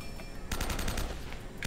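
Gunfire from the video game Uncharted: Drake's Fortune sounds in a rapid burst of close shots, followed by a brief quieter gap and one more shot near the end.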